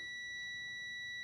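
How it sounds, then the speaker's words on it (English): A wire continuity tester gives a steady, unbroken electronic beep as its two leads touch, a pure high tone held for the whole moment. It is fairly quiet and close, with no talking. "if I touch these 2 together, it completes this circuit, and you get a beep"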